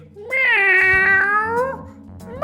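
A cat in Persona 5 Strikers gives a single long, drawn-out meow, close and clear over faint background game sounds, with the start of another meow at the very end.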